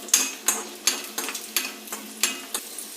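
Seven or eight garlic cloves sautéing in oil in a kadai over a low flame, with a steady gentle sizzle punctuated by regular clinks and scrapes of a spoon stirring, about eight strokes in three seconds, close and without talk.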